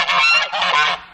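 A swan living on a landfill lake near Lviv gives a loud, close, honking call in two quick bursts, alone without talk.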